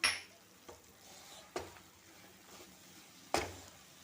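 A jaggery and coconut mixture cooks in a pan while being stirred, with a faint low sizzle under a few separate scraping clinks of a spoon against the pan, close and quiet with no talk.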